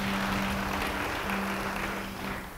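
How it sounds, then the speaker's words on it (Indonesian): A church congregation applauds at a sermon, a steady wash of many hands clapping that holds throughout and slowly tapers at the end, with a faint hum running beneath. "Beri tepuk tangan bagi dia."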